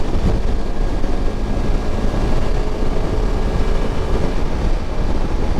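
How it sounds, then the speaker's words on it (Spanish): A Honda CRF300 Rally motorcycle with low mileage accelerates along a straight, giving a loud, continuous engine roar with heavy wind rumble over the microphone. "Voy a aprovechar esta recta para ver cómo acelera"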